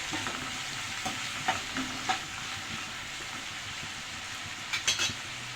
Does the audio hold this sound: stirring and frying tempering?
yes